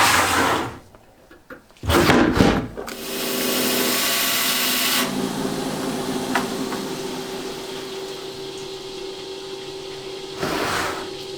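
Rock saw slicing a large Condor agate nodule from Argentina, with a few knocks and clatters at the start, then a steady grinding whine that runs on at an even level, close and with no talking.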